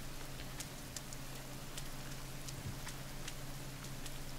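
Rain falling in the survival video game The Forest, a constant soft hiss of rainfall with scattered sharper droplet taps over a low steady hum.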